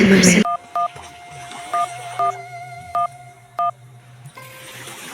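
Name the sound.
telephone number being dialed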